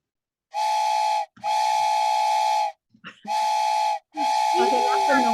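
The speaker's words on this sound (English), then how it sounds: "Oh, it was a toy train whistle." A Thomas and Friends toy train whistle blows four times, steady bright tones in close bursts separated by short gaps, with a faint voice murmuring in the pauses and under the last blast.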